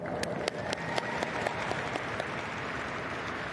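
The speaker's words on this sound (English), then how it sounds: "please give them a round of applause" An audience claps at the opening ceremony of the CISM World Women's Football Championship, producing a steady, fairly distant wash of applause with a few sharper individual claps and no voices.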